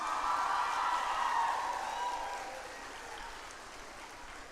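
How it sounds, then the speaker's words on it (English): Audience at a centenary celebration applauding, a dense wash of clapping that is strongest at first and gradually fades, with faint crowd murmur. "big round of applause"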